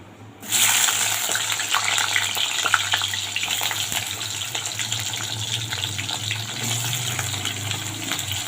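Eggplant pieces dropped into hot mustard oil in a wok burst into a loud, continuous sizzle that starts abruptly and holds steady with fine crackles, close up, no talking.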